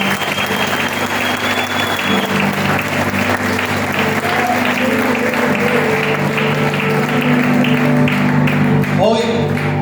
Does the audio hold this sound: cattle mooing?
no